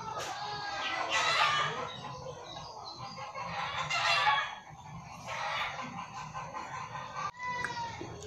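Several chickens cluck and squawk noisily in repeated loud bursts, some honking, goose-like calls among them, close by and continuous across the whole stretch with no clear speech over them.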